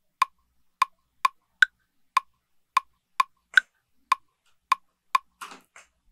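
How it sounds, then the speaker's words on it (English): An Ableton Live loop of sharp, dry percussive ticks whose spacing shifts between 100 and 160 BPM, about a dozen evenly struck clicks with a brief scratchy burst at the end, alone and fairly quiet. "here's an example with BPM 100 for the first two beats and 160 for the last two beats"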